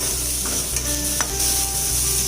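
Palak paneer ingredients sizzle and fry steadily in a pan, with a constant close hiss and a few soft stirring scrapes, no voices.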